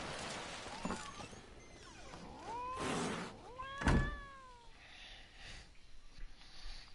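A cat in a video game gives a few soft meows, rising and falling calls spaced over several seconds, faint against a quiet game background.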